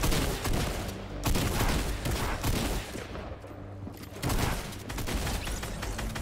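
Rapid gunfire fills a Fortnite Bedwars match, with dense bursts of repeated shots running almost throughout and a brief lull midway before the shooting picks back up, loud and close.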